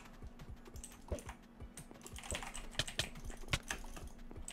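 Rapid, continuous keyboard and mouse clicking up close from jitter clicking at seven to eight clicks per second, busy and irregular, with a faint steady hum underneath.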